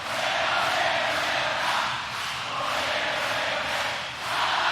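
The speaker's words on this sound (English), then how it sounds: "This crowd's into it." A concert crowd at a live show roars in a dense, steady wash of cheering and shouting that swells and dips slightly, loud and continuous with no clear voices standing out.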